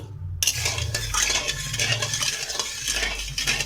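Sugar melts in a pan with two cracked cardamom pods for sandesh, stirred continuously with a metal utensil that scrapes and clinks against the pan over a soft sizzle, close and steady, with no talking.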